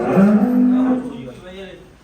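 A buffalo calf moos at a farm in Sahna village, Barnala, Punjab. It gives one low, drawn-out moo up close, then a fainter, shorter call trails off.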